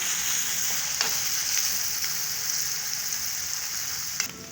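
Onions and pili pili chilies frying in a pan, a continuous close hissing sizzle with a few faint clicks, steady throughout with no talk.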